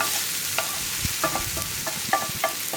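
Spice powders cook in a pan for a cauliflower roast, the spoon stirring and scraping in short repeated strokes over a soft, steady sizzle, close up and without speech.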